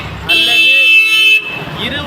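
A city bus goes by on a Kolathur street with a loud, sustained horn blast lasting about a second, road traffic rumbling before and after.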